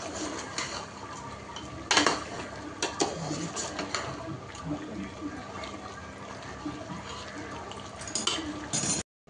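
A spoon stirs rice and chicken in a pot for bagara rice with chicken masala, with intermittent scraping clinks against the metal and a soft cooking hiss underneath, fairly quiet and steady, with a few louder knocks.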